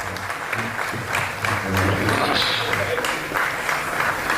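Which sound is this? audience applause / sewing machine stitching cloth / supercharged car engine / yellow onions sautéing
audience applause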